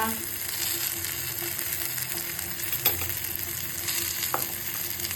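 Vegetables fry in a pan with turmeric for misal usal, giving a steady close sizzle with occasional clinks and stirring knocks, and no voices.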